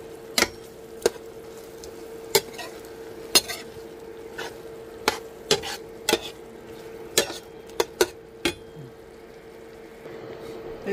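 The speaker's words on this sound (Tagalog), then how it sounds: "Ilagay na po natin yung hipon." A utensil scrapes and taps against a pan at irregular intervals while shrimp goes into a sautéed mung bean dish seasoned with fish sauce, over a low steady background hum.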